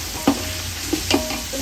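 Soya pulao is stirred in a frying pan, with a few sharp scraping strokes over a soft continuous sizzle and no voices.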